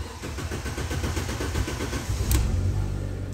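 A Fiat 500 petrol engine cranks and catches, its starter turning over in quick rhythmic pulses before settling into a close, steady running idle.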